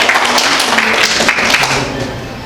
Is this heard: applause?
yes